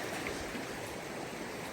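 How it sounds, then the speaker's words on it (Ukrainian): A river flows beside a town embankment in winter, a steady, dense rushing of water that stays even and unbroken throughout, with no voices. "Ось у нас річка."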